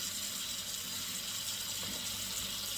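Hot water runs from a kitchen tap into a sink for washing dishes, a steady, even hiss of flowing water that stays constant and fairly quiet throughout with no speech.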